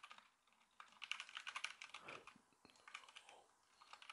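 Fast typing on a computer keyboard while coding a discord.js bot, with quiet, close, irregular bursts of clicking key taps and no voices.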